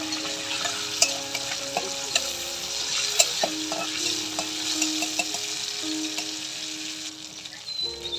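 Bay leaf and cumin powder sizzle in hot oil for a tempering over a wood-fired village stove, a loud close crackle with scattered sharp pops and stirring scrapes throughout.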